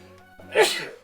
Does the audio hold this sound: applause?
no